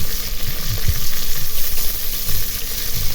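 Garlic and pork belly fry loudly in a pan for chicken adobo, a dense, close sizzle with stirring scrapes throughout and no talking.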